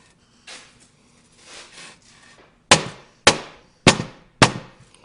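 A grease seal is hammered into place on a car being built from the frame up: a few soft scuffs, then four sharp, loud metallic whacks at an even pace, close by.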